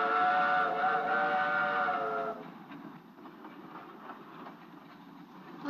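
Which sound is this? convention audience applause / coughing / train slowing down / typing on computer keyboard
train slowing down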